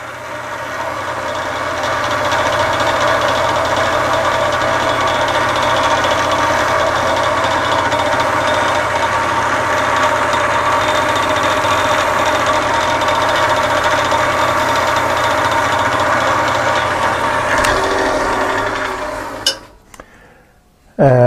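Wood lathe spinning a small turned ice cream cone Christmas ornament while wax is pressed on to polish it: a steady droning hum with faint rattling vibration holds for about nineteen seconds, then cuts off into brief clunks.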